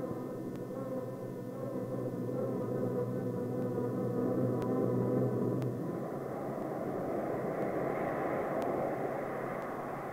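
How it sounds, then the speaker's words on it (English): Soviet strategic bombers fly during aerial refueling, their engines a continuous, even droning roar with a low humming tone that holds steady throughout. "Refueling operations keep Soviet strategic bombers airborne."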